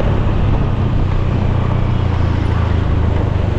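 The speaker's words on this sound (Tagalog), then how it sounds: "Okay, grabe yung traffic." Motorcycle riding through congested downtown traffic in Cotabato, a steady loud engine drone with road rumble filling the whole stretch, no talk over it.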